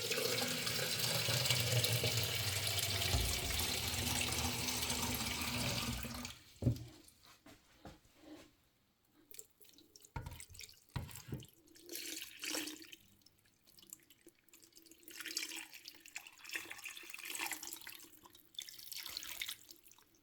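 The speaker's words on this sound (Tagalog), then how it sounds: "Lagyan natin ng tubig." Water runs steadily from a tap into a pot for braised duck (patotin), a loud continuous gush for about six seconds before it cuts off, leaving quieter kitchen clatter and small splashes.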